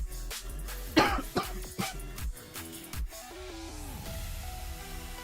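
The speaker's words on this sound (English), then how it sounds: "doing all this talking is like aggravating my cough" A few coughs at the start, harsh and close, followed by a throat-clearing sound, with quieter background noise after.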